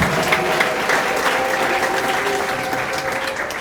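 A church congregation at a prophecy service breaks into loud, sustained applause with a crowd roar, dense clapping throughout with no speech over it.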